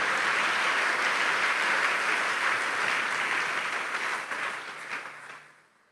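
A church congregation bursts into sustained applause at a sermon, a dense crowd clapping that stays loud and even for several seconds, then thins and fades out toward the end.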